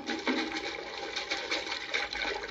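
Water churns and sloshes continuously after a man topples off a bridge, a steady, muffled rush of splashing from an old Robin Hood record, with no talking.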